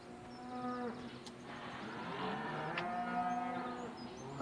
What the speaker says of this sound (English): Nice cows.